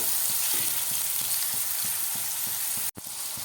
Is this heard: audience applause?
no